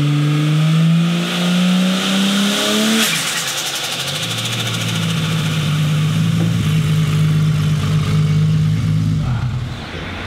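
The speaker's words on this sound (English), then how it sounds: "Let's show you what it sounds like with no dose pipe." A turbocharged Holden VL engine with no dose pipe fitted revs hard and close, drops sharply after a few seconds, then settles into a lower, rough drone before it fades.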